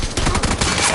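Shotgun blasts in the battle-royale shooter PUBG: Battlegrounds during a team deathmatch, a rapid close burst of loud booming shots filling a single second with no talk over them.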